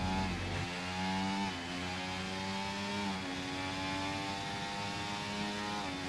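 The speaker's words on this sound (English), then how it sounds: "Getting close, you can hear the engine topping out." A race car engine in a racing video game held at full throttle and topping out, a loud sustained whining drone that rises in pitch, shifts and climbs again without a break.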